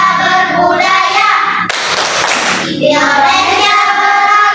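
Hands clap for about a second in the middle of a sung Indonesian children's song during a teaching practice lesson. The loud singing continues on either side of the clapping.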